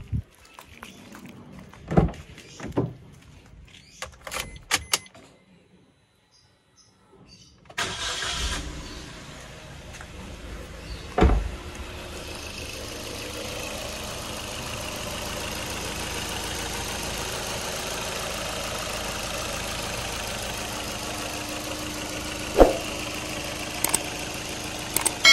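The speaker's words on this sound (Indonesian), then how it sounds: "untuk kondisi mesin ini masih bagus ya, nggak ada bunyi-bunyi kasar." A family car with an engine in good condition is handled with a few clicks and knocks, then starts up and settles into a smooth, steady idle that continues, with occasional thumps over the hum.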